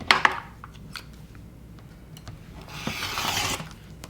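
A rotary cutter trims a quilt block with soft scraping rubs and a few light clicks, then a longer, louder rolling cut near the end, close and with no talking.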